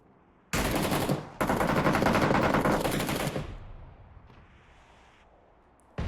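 Mortar fire in a PUBG King of the Hill custom game: two long, loud bursts of rapid, dense blasts separated by a brief gap, then a rumbling tail that fades before one more sharp hit at the end.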